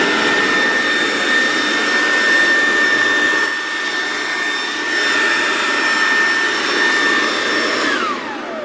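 A Toro Power Jet F700 electric leaf blower runs loud and near with a high whine over a rushing airflow roar that dips slightly midway, then winds down with a falling pitch at the end.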